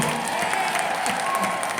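Flower show contest audience applauds a floral designer's entry, a brief, even patter of many hands clapping at moderate loudness with faint crowd voices mixed in.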